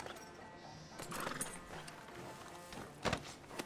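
A horse in the video game Red Dead Redemption 2 snorts and whinnies with scattered hoof clops, fairly faint over game ambience.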